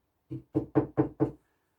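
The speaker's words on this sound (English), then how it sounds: "there was a knock on the door." Five firm knocks on a door in quick, even succession, close and distinct, followed by silence.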